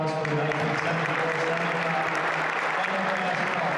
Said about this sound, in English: Let's give one more round of applause for the 1974-75